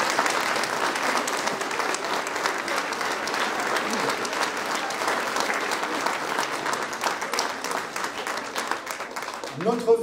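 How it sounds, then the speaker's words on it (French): Sustained applause fills a hall at a New Year's greetings ceremony in Tarnos, a dense and even clapping that carries for about ten seconds before fading near the end. "On peut d'ailleurs applaudir nos amis"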